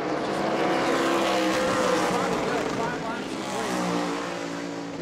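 Race cars roar around New Smyrna Speedway, a dense continuous engine drone with pitch shifting as the pack passes, loud and sustained while a commentator talks over it.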